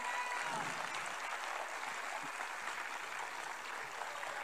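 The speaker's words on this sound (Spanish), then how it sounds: "Fuerte el aplauso para esta banda que suena en vivo para ustedes esta noche." Dense applause from a large crowd at a live band concert at night, a continuous even wash of clapping heard from a little distance.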